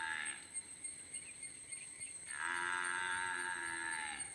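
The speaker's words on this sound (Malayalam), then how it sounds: "ഈ പോത്ത് എന്തോത്തിന് ഇങ്ങനെ കിടന്ന് വിളിക്കുവോ" A water buffalo bellows in long, droning calls, one early and a louder, sustained one later, over a steady background of insects.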